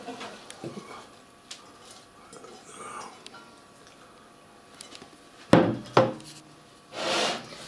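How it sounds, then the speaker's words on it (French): Salad and peas for a gluten-free peas dish are tipped into a large cooking pot (a cocotte). Soft rustling comes first, then a couple of sharp clattering bursts and a longer rushing pour near the end. "je vais tout verser dans cette grande cocotte pour pouvoir mélanger"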